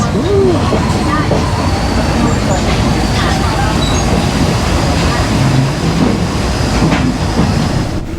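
Passenger train rolling through Thailand, a loud, steady rumble of wheels and carriage noise heard from inside, with faint clattering and background voices throughout.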